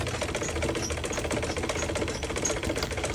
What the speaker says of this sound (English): Like I'm using manual machine, but then it's still giving the best result.